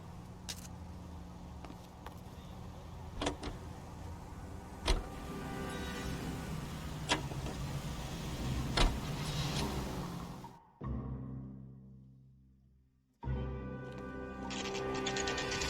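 A car drives in L.A. Noire with a steady engine hum and road noise, broken by occasional sharp clicks. Near the end the sound drops out abruptly, then comes back.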